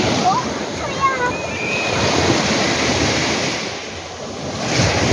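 Ocean waves break and wash up on a shore, a steady loud roar of surf with wind buffeting the microphone and faint voices talking in the background.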